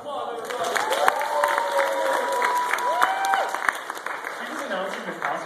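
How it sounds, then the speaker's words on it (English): A convention crowd at Ucon bursts into applause, clapping steadily and densely while people cheer and voices carry over it. "Give her a round of applause,"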